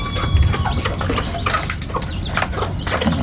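Chickens cluck and murmur on a rice farm, several birds calling in short overlapping bursts amid steady low outdoor noise, with no talk.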